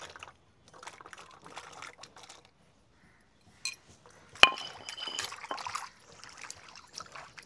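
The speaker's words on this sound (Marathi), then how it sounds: "लाल भोपळा बारीक चिरून झालेला आहे ते धुवून घेऊ" Chopped red pumpkin pieces are rinsed in a bowl of water, giving quiet intermittent splashes and trickles with an occasional sharp clink of vessel or utensil.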